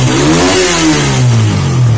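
A Suzuki Satria F150 motorcycle engine, freshly refitted with its cylinder head and tuned, revs up loud and close and then winds back down in one smooth, unbroken sweep.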